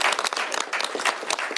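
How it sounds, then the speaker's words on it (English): Brief burst of applause from an audience at a bill signing with Washington Governor Bob Ferguson, honoring State Representative Roger Goodman as the bill's prime sponsor; dense, steady clapping throughout, fairly close. "Give him a round of applause for his hard work"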